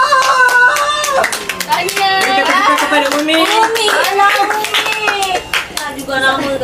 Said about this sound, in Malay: Berikan tepukan kepada Umi.